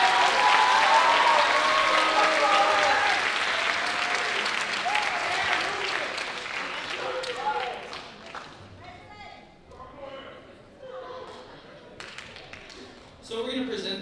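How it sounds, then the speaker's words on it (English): Audience applause after a high school choir spring concert, loud dense clapping that gradually thins and fades into scattered claps and murmuring voices toward the end. "Big round of applause for them."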